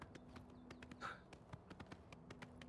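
Horse hooves clip-clop at a steady walking pace in the video game Oblivion Remastered, a run of light, evenly spaced taps close by over a low ambient hum, with no talk.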